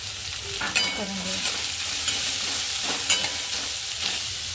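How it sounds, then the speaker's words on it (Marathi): Chopped onion, green chillies and garlic sauté in hot oil with a continuous bright sizzle, while a spoon scrapes and stirs in a few quick strokes close up, and nobody speaks. "आता हे सगळं छान आपण मिक्स करून घेऊया। तेलावर छान परतून घ्यायचं।"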